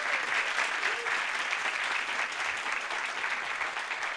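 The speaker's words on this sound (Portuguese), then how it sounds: "Queria pedir uma salva de palmas para os meus colegas de trabalho." Steady applause from an audience at a talk on Brazilian radio, even and continuous throughout, moderately loud with a faint crowd murmur under it.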